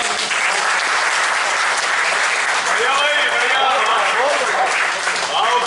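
Loud, dense applause from the audience at a kavi sammelan (poetry gathering) in Roorkee fills the whole stretch, steady and close, with a voice speaking over it partway through.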